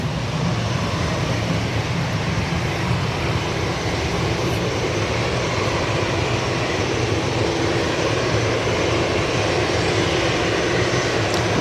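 Aer Lingus airliner departing Manchester Airport for Dublin in the early morning, a steady broadband engine roar that holds loud and constant throughout with no talk.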